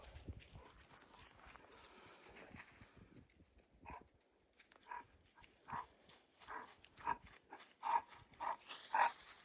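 A dog moves about a yard on a rural Tennessee property, with faint scattered sounds that grow into short, sharper bursts toward the end against a quiet background.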